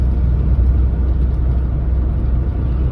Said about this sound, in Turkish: Umarım sesim geliyordur gene arabanın sesinden